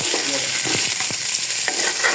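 Onions sizzling loudly in hot oil for a masala, with a spatula scraping and stirring through the pan in a few distinct strokes over the steady fry.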